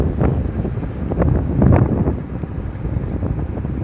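A fishing boat heads out to sea, its steady low engine rumble buried under loud, continuous wind buffeting the microphone, with no voices.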